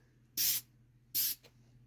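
Two short, close hissing bursts from a spray can applying clear coat onto a car headlight, each lasting under half a second, with a brief tail of spray after the second.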